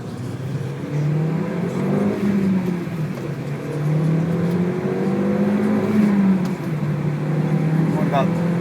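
A 2001 Audi TT Quattro AWD turbo cruising on a highway: a steady, fairly loud engine drone with rising and falling tonal pitch from road speed, continuous throughout, with no talking.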